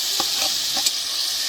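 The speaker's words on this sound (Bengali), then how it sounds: "ভালো করে আমি আবার একটু ভেজে দিব মশলার সাথে টমেটো পেস্ট" Tomato paste frying with spices in a pan, giving a steady broadband sizzle with a few soft scraping stirs, close and moderately loud, no voices.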